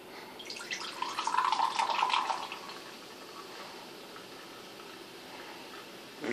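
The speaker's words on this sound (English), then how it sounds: "I'm going to pour it in the glass right quick while I'm on camera" An energy drink pours from a can into a glass with a short splashing gush, then settles into a faint, steady fizz of bubbles, close by and with no talking.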